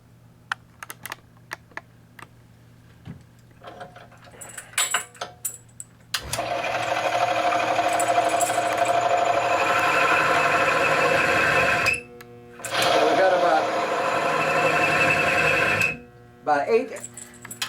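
Bearing friction test rig spinning under about 8.5 pounds of pressure, its bearing race lubricated with Lucas Extreme Duty Gun Oil: a steady loud mechanical whir with a brief break midway, after scattered clicks.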